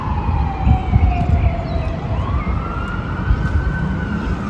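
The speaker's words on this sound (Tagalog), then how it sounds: "Naririnig ko yung ambulansya" A wailing ambulance siren sweeping up and down, heard from a distance over a low rumble of city traffic in Budapest, Hungary.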